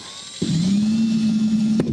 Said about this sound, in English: You want to move the drill closer.